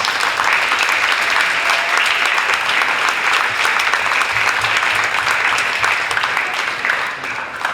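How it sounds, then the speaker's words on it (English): Sustained, even applause fills a hall at the close of the 2025 APAC Orchestra concert, a dense wash of many hands clapping continuously at steady loudness. "Please have one round of applause for all the special thanks."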